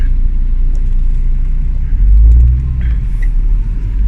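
Ford Focus driving on a road test, with a steady low rumble of the engine and road noise from inside the car and no talk.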